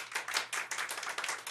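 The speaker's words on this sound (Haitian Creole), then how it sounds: "Medina mérite un gros applaudissement" An audience at a Brooklyn press conference applauds for Medina, a brief burst of close, dense clapping at moderate level with no voices.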